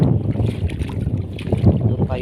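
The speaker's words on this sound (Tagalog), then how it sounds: "Lakas ng hangin." Strong wind on an island shore buffets the microphone with a steady, loud low rumble, with the faint wash of nearby water underneath.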